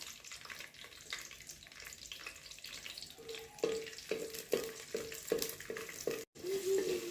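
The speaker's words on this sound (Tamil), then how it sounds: "எண்ணெய் சூடானோன்னே வெங்காயத்தையும் ரெண்டு பச்சை மிளகாயும் அதில் சேர்த்துக்கிடுவோம் வதங்கட்டும்" Onions and two green chilies sautéing in hot oil for village-style kootan soru, a low continuous sizzle with rhythmic scraping strokes of a spoon against the pan, moderately quiet.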